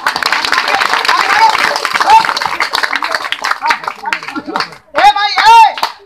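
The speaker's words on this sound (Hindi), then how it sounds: "ताली बजा दीजिएगा सभी आदमी, ताली मारो" At a street magic show, a crowd claps in scattered bursts while someone talks loudly over it, the clapping thinning out before his voice dominates.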